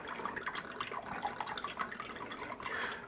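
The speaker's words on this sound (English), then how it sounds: "Put in some syrup" Lemon ginger soda syrup is poured into a glass, a continuous quiet trickling and splashing of liquid with no voices.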